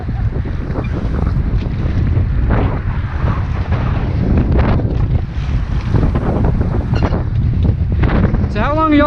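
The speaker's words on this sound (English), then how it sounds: "the wind just tries to push us into the rocks for a little while" Strong wind blowing while rafting on the Colorado River, a constant heavy rumble and buffeting close on the microphone, with faint water sounds beneath and a brief voice near the end.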